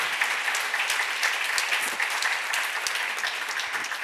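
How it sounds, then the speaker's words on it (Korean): A church congregation applauds during a sermon, a dense, steady wash of many hands clapping together for about four seconds at even loudness, with no voice over it. "박수로 하세요"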